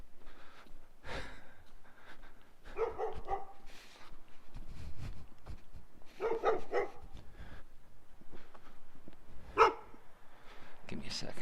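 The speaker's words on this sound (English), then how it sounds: "Oh, that dog is still out." A dog barks outdoors a few times at moderate distance, short scattered bursts heard behind a person's breathing and quiet talk.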